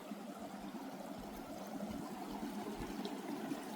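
A small stream flowing out of Lago Chico under a little footbridge in Huerquehue National Park near Pucón, Chile: a soft, steady trickle and babble of water, faint and continuous with no voices.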